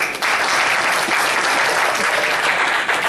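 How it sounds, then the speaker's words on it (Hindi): An audience at a Hindi-language public gathering breaks into loud, dense applause, a thick continuous patter of many hands that stays strong and steady for the full three seconds, with no speech over it. "उनके सम्मान में आप तालियां बजाएं कृपया।"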